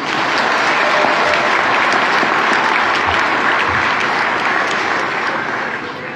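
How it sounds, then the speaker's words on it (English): Graduates at a university graduation ceremony give their lecturers a loud, sustained round of applause, a thick continuous roar of many hands that tapers slightly at the end. "I would like the graduate of 2018 just to give a round of applause to our lecturers"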